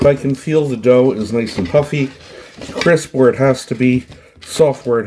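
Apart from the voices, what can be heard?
No distinct noise like a dog, phone or traffic.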